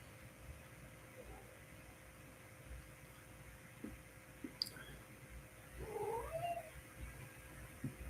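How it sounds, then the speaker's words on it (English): Cats give a faint, drawn-out meow midway through, set against a steady indoor background hum and low noise, with a few soft clicks earlier. "The cats."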